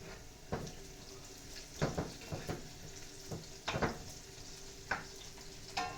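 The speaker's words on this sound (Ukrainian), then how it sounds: "Ну, а як дожариться цибулька" Onion frying in a pan, a steady low sizzle with occasional louder scrapes and stirs spread across the stretch, close and fairly quiet, with no talking.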